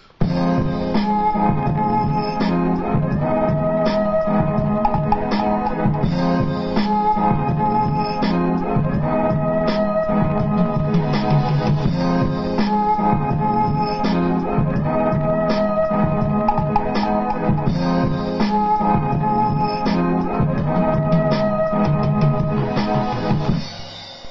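A looping hip-hop beat plays steadily with punchy drums and a repeating melodic phrase, continuous and loud with no talking.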